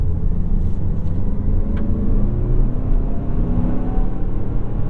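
A 2021 Mazda CX-5 2.5-liter turbo AWD rumbles along a rough road, low engine drone with constant thumping and jostling from the uneven surface, loud and close.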